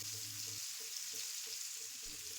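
Sliced medium onion and two split green chillies sizzling with black cumin seeds in hot oil left from frying tangra fish, a steady hiss with faint stirring scrapes.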